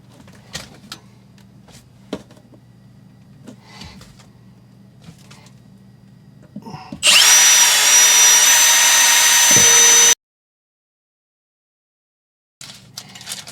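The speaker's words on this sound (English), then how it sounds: "Now we're going to move on to go ahead and drill this one the same." A power drill bores into a Honda Pioneer 1000 shifter plate, a loud steady whine of about three seconds that stops abruptly, with faint handling knocks and clicks around it.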